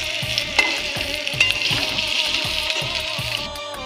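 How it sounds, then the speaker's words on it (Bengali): Potatoes fry in a pan and are stirred by hand without a spatula, giving a loud, continuous close sizzle with faint irregular knocks underneath. "এবার আলুটা ভেজে নিচ্ছি হাত দিয়ে"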